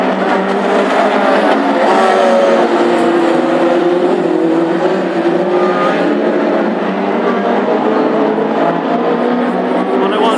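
Hot rod race cars, including a Wolseley, rev loudly on the grid and roar away together at the start of a heat at Ipswich, with a commentator talking over the sustained engine noise.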